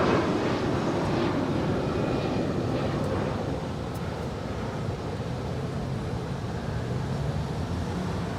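Broad steady roar of a jet airplane departing Los Angeles LAX airport, a distant, wind-like rushing wash that holds level and slightly eases, no voices.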